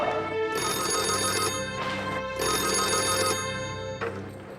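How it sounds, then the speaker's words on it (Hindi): A telephone bell rings loud and close in a Hindi TV drama scene, in three long trilling bursts split by short pauses, with the start of a fourth. "1 मिनट, डॉक्टर सुबोध का फोन है।"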